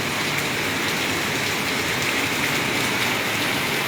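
Steady rain pours at Anakkallu, Kanjirappally on a March afternoon, a dense, even hiss of drops on surfaces that stays loud and unbroken throughout, with no voices.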